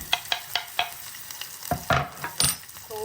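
Onion, garlic and curry leaves hit hot oil in a frying pan, with close sizzling and repeated stirring scrapes and taps in a quick, uneven rhythm and no talking.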